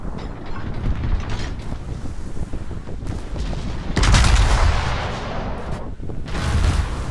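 Naval gunfire in the World of Warships game booms through a dense, rumbling battle mix, with heavy blasts swelling at several points over continuous mechanical and wind-like noise.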